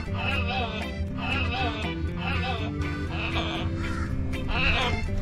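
A parrot in the Maldives gives repeated harsh, raspy calls in a regular series, close and fairly loud, with a low steady hum beneath.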